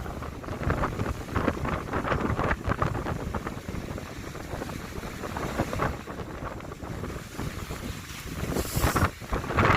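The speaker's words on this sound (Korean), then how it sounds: "지금 맞바람이 불어요" Strong seaside headwind buffets the microphone in a continuous loud roar, gusting unevenly over a broad open-air rush with no voices.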